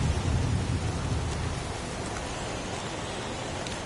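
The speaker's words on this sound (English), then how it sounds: "It's pouring rain." Heavy pouring rain outdoors, a dense broadband roar of downpour that stays loud and constant throughout, with a deeper rumble in the first seconds and no voices.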